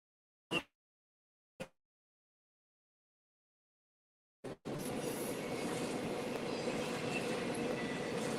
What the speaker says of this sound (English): the CSX auto racks are on the move now